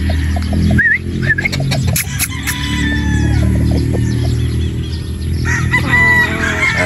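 A sweater-breed gamefowl broodstag crows loudly and close by, and other fowl cluck and crow in the background of a busy poultry yard.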